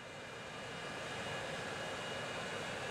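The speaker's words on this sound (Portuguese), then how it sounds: "Cara, aqui tem avião pousando e levantando a todo segundo." Airplanes landing and taking off in the video game Transport Fever 2 produce a continuous, smooth jet-engine drone that swells slightly, heard alone with no voices.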